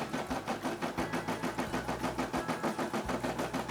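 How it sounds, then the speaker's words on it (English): Brother SE600 embroidery machine stitching out a shark design, a steady fast mechanical pulse of needle strokes with a motor hum, close and alone. "SE600 starting to stitch out the Baby Shark."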